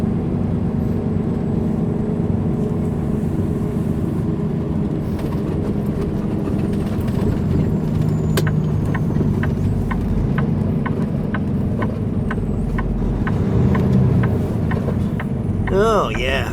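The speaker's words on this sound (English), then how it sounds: "Lots and lots of traffic rolling on by here." Vehicles roll past on a busy road while waiting at a traffic light, a continuous low engine rumble with the whoosh of passing cars and faint scattered clicks throughout.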